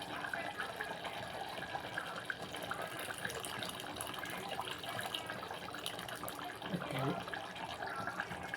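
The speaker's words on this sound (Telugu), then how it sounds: "అప్పుడు చింతపండు పులుపు వేసేసుకుందాం." Tamarind water pours into a simmering goat head curry, a continuous liquid splashing and bubbling sound at moderate, fairly quiet level, heard alone without speech.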